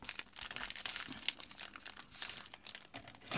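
Wrapping paper crinkles and rustles continuously as it is folded into quarters and creased, close and fairly quiet, with small crisp crunches throughout.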